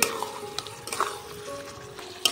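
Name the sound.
stirring fried eggs into spinach masala in a pan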